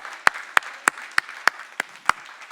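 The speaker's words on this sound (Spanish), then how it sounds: "eso se merece un aplauso al Señor" Seven sharp, evenly spaced claps about every third of a second, close and distinct against a quiet room, during a church worship service as the congregation applauds.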